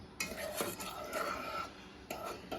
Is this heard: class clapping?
no